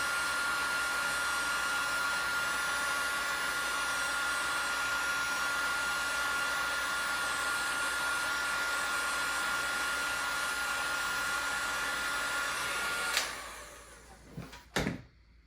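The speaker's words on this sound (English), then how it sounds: "Some people use like a torch to do this. I don't know. If you wanna be fancy, I guess you could do that, but heat gun works good." A heat gun shrinks heat-shrink tubing onto a battery cable, giving a loud, steady blowing whoosh that runs for about thirteen seconds, then cuts off, followed by a few brief knocks and clatter.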